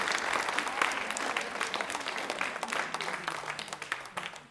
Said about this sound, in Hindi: तालियां बजाइए मैम के लिए,